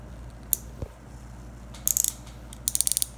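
Centrifugal brake on a baitcasting fishing reel being adjusted, a few isolated small clicks followed by two quick bursts of rapid ratcheting clicks, close and faint.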